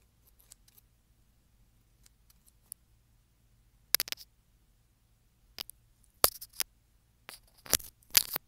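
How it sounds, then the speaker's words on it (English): Braid scissors snip and click in several short, crisp bursts, close and quiet, with brief silences between the clusters of cuts. "Next up, I have my braided scissors."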